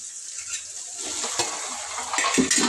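Eggplant going into masala paste frying in a pan for a stuffed eggplant curry, a steady close sizzle with stirring scrapes and a few utensil clinks, no talking.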